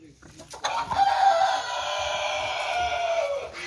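A rooster crows loudly and close by in one long, sustained call, with hens clucking around it, at a pig and livestock farm in the dry backcountry of northeastern Brazil.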